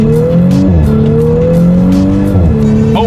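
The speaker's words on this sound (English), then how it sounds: "let me do a quick little acceleration" A 2018 Audi S5 accelerates hard, its engine note rising loud and close through the gears with brief dips at each shift, tires hissing underneath.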